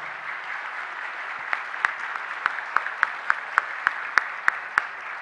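Conference delegates applaud at the closing ceremony for the adoption of the Jakarta Declaration: a sustained, even hall-wide clapping that turns into louder rhythmic, synchronized claps toward the end.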